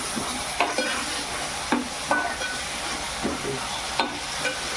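Ginger, garlic and coriander paste sizzles steadily in a pan with half-cooked chicken keema, a dense constant frying hiss close by, broken by several soft stirring scrapes.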